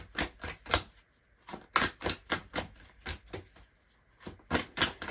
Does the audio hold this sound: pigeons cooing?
no